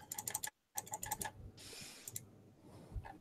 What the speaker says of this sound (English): Are you typing in the chat?